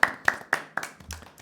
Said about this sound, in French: Bravo, je pense qu'on peut s'applaudir.